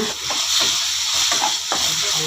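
Paneer bhurji being stirred in a pan on low heat, a steady frying hiss with repeated scraping strokes of the spoon, close and continuous with no talk.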